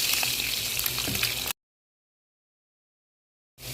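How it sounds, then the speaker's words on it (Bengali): Potatoes and eggs frying in ghee, a steady close sizzle and bubbling for about a second and a half, then a full cut to silence before the frying returns briefly. "এখন আলু আর ডিমটা ভালো করে একদম ঘিয়ের মধ্যে ঠিক ভালো করে ভেজে নেব।"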